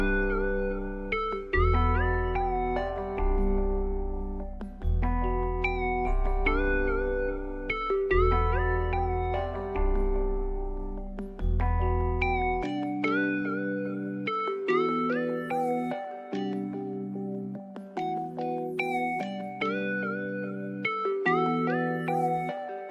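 A 146 BPM beat loop built in FL Studio in a smooth, emotional melodic rap style, with deep bass notes under bright plucked melody lines repeating steadily and loudly, the bass dropping out in the second half.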